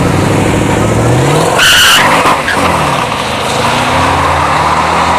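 Tesla Model 3 launching down a dragstrip lane during test-and-tune drag racing, a loud burst of tire skid and rushing noise peaking briefly before a rising electric whine and steady roar continue.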